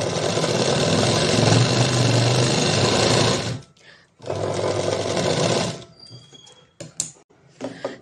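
An electric sewing machine stitches a blouse in fast, loud continuous runs, a long burst followed by a short pause and a second burst, then scattered clicks and handling noises as it stops; someone speaks over it.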